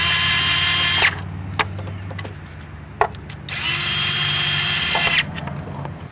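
A power driver running coil cover bolts back in on a 1995-2001 Nissan Maxima engine, two loud steady whirring bursts about a second and almost two seconds long, separated by quieter clicks and taps.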